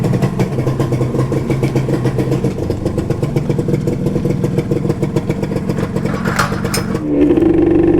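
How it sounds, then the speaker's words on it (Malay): A Modenas Dinamik 120 motorcycle with an RXZ carburetor and intake hose problem chugs and idles loudly up close, then revs higher near the end. "jomlah kita start dulu motor ni"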